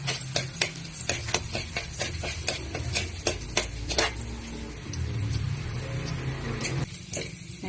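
Garlic fries in a pan with a low sizzle while a spatula stirs it in quick scraping strokes and taps, close and clear, the stirring easing off midway before a few final scrapes; no one speaks.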